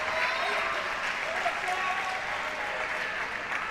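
A crowd at a European para table tennis championship at an Institute of Sport venue applauds steadily, a dense continuous wash of clapping that holds throughout, while a commentator talks over it.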